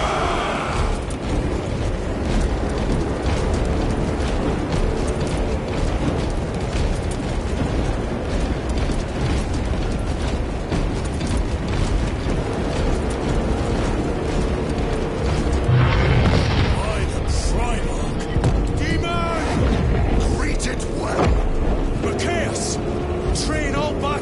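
Massed weapons fire in a Warhammer 40K: Space Marine 2 cutscene, with relentless booming explosions and heavy gunfire forming a loud, continuous barrage while voices speak over the din.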